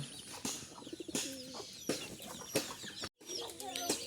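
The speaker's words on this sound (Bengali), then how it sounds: "অল্প কিছু কবুতর নিয়ে শুরু করছি" Pigeons in a small loft on a native-chicken farm in Maheshpur, Jhenaidah, coo in low, throaty repeated phrases at close range, with hen clucks and rustling mixed in.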